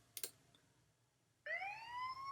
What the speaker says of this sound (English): again, police siren,